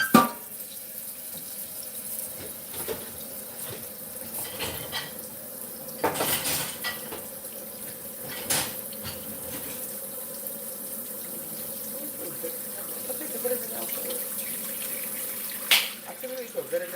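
Tap water runs into a kitchen sink while pots, pans and cutlery are washed, with a steady hiss of water broken by scattered metallic clanks and scrapes, fairly close, continuing for the whole stretch.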